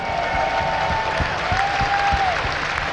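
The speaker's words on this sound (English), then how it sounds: "Give him a big round of applause." A live esports audience applauds Liquid TaeJa at a StarCraft WCS Season 2 Finals event, with steady clapping and crowd noise filling the hall under a faint sustained tone.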